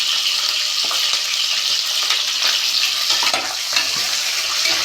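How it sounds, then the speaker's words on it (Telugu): Onions frying in a pan for Telangana-style pappu (dal): a steady, dense sizzle and crackle of hot oil throughout, with faint stirring scrapes, close and continuous. "ఇలా బ్రౌన్ కలర్ వచ్చిన తర్వాత ఉల్లిగడ్డలు వేసుకోండి."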